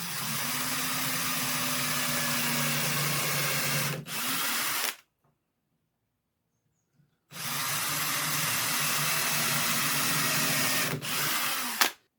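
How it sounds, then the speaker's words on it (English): A power drill bores holes in timber, a steady whirring drone running for about five seconds, stopping for a two-second pause, then starting again with another long run, close and loud. "let's get on with drilling the holes"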